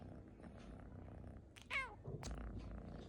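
A Persian kitten purrs softly up close, then gives one brief rising meow followed by a small chirp, all quiet and intimate against a low background.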